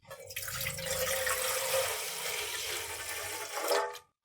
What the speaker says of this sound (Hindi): इसमें डालेंगे बहुत सारा पानी।